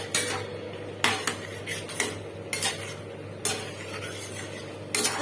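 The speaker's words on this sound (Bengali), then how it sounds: "এবার আমি এটার মধ্যে ফুলকপি আলু দিয়ে দেব।" Cauliflower and potatoes are dropped into a curry pan and stirred: sharp metallic scrapes and clinks of a spoon against the pan recur irregularly over a low steady hum, with no voices.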